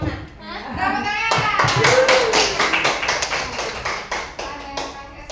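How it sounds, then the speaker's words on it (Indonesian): A group of people at a morning school or staff gathering applaud together, a dense burst of hand claps that swells and then trails off into scattered claps, with a few voices calling out over it. "Tepuk tangan."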